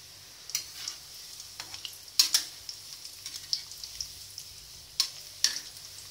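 Paneer frying in a pan: a soft, steady sizzle with scattered sharp pops and spatters, quiet and close, with no talk.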